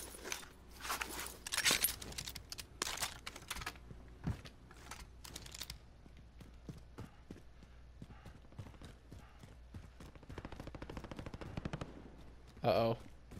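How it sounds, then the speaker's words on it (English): Heavy gunfire in an online multiplayer shooter game, with rapid clattering bursts of shots that come thick at first and then thin out, ending with one louder blast. The shots are at moderate distance, and a player talks over part of it. "Very heavy shots over here."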